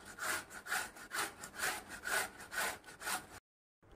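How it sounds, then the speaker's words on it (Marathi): Bottle gourd scraped against a kitchen grater from the back side, a steady run of about eight rough, rhythmic rasping strokes close up, then a sudden stop into silence. "भोपळा ग्रेट करताना पाठीकडील या बाजूने किसायचा आहे"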